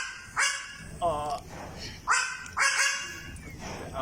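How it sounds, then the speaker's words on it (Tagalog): A small dog, apparently a poodle, gives a series of sharp yips and barks, about five bursts spaced irregularly over a few seconds, fairly close and loud against a steady background hum. "Aso."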